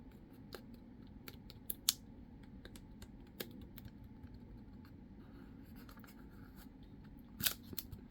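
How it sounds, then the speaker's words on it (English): Scissors snip through tape in a resin stained-glass style craft project, producing faint, sparse clicks and short cuts at irregular intervals over a quiet room hum, with a couple of sharper snips standing out. "we're going to get our scissors here, and we're going to cut this away"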